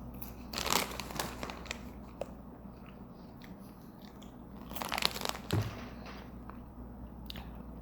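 Someone eats Sour Patch Kids popcorn up close, with two bursts of crisp crunching and chewing separated by quieter stretches of softer mouth sounds.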